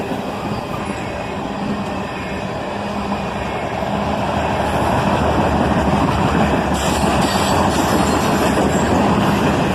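A long freight train of tank cars carrying liquefied petroleum rolls past nearby, a loud continuous rumble of wheels on rails with rhythmic clatter, steady throughout.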